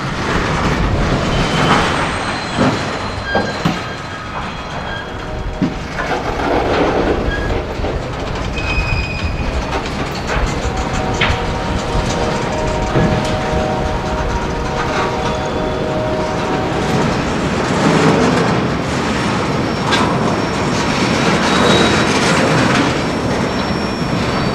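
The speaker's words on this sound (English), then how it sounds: "this one featuring 2 units from CSX and Norfolk Southern" Freight train 474, led by two CSX and Norfolk Southern diesel units, rumbles past at close range, with loud continuous clickety-clack of wheels over rail joints and occasional metallic wheel squeals.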